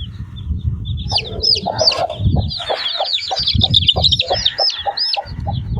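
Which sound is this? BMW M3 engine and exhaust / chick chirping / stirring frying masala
chick chirping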